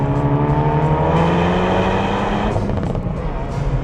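A Hyundai i30 N fitted with a valved Cobra Sport exhaust accelerates hard, its engine note loud and close, climbing steadily with a brief dip before pulling again.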